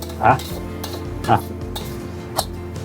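Instant noodles with egg are stir-fried in a pan, with a constant sizzle under three sharp scraping clinks of the utensil against the pan at irregular intervals.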